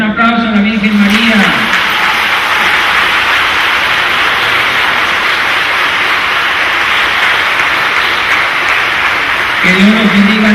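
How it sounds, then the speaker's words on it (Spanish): A large crowd applauds at a Catholic youth conference in Yucatan, honoring the Virgin Mary. The dense, steady clapping swells in after a brief voice, holds for about eight seconds and fades as speech resumes. "Un aplauso a la Virgen María."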